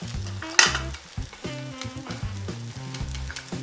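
An omelette fries in a pan over an alcohol camping stove at a solo campsite, with steady sizzling, a sharp scrape near the start and repeated low stirring knocks as the egg is pushed toward the centre.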